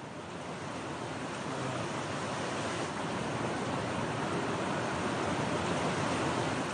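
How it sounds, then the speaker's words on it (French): Muddy floodwater of a river in deadly October flooding in France, roaring as a steady, loud torrent of broadband rushing noise that holds constant without pause. "La rivière en furie emporte tout sur son passage."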